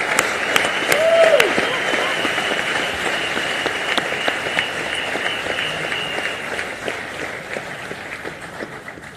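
Large audience at the Reliance Industries annual general meeting applauding steadily, a dense wash of clapping that starts loud and gradually thins and fades over several seconds.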